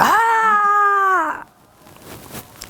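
A kitten lets out one loud, drawn-out meow with a slightly falling pitch, close by, followed by quiet background noise.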